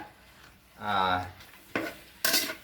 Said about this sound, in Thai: ผัดไปเรื่อยๆนะครับ